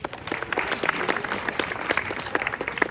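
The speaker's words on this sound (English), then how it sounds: "Round of applause again for all of these athletes." A crowd claps steadily for student athletes at a school athletic celebration, with dense overlapping hand claps held at an even level for several seconds.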